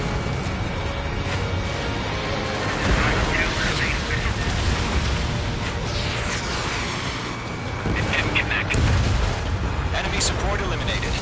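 Missile launch and explosion in the Ace Combat 7 jet combat game: a sustained roaring rush of engine and rocket noise with booming blasts around the middle and end, continuous and loud, with radio voices talking over it.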